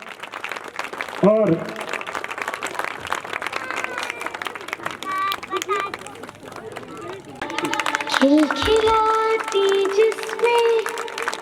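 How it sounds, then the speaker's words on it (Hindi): At a Republic Day 2023 event at a senior secondary school in Sahuwala, an audience claps and applauds as a guest is welcomed to the stage, sustained crowd noise mixed under a voice speaking throughout. "कृपया करके स्टेज पर आए और तालियों के साथ स्वागत।"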